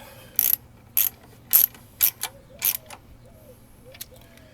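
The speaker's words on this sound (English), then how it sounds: "with our 17mm socket and an extension, just go ahead and tighten this bolt up, snug it up." A 17mm socket ratchet with an extension tightens a bolt while auxiliary lights are being mounted. It makes six or so crisp, loud bursts of clicking in a steady rhythm, close up, followed by a few fainter clicks.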